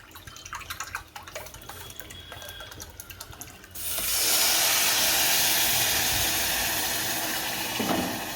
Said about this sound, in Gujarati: 2 વાટકા પાણી નાખીએ